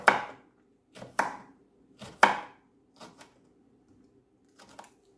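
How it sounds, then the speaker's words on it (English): Sharp knife dicing okra on a cutting board, a handful of crisp knocks spaced roughly a second apart, some in quick pairs, then fading lighter taps. "You can now use your chopping board to dice it."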